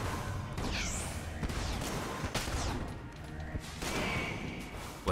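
Charge-shot gun firing in Enter the Gungeon, repeated sharp shots and crashing impacts with whooshing sweeps in a busy, dense game mix, steady and moderately loud.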